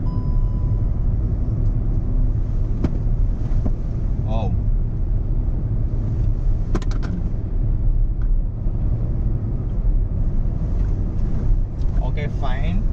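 A Hyundai Venue SUV cruising at a speed of 60, heard from inside the cabin as a constant low road and engine rumble mixed with wind noise. A voice talks over it.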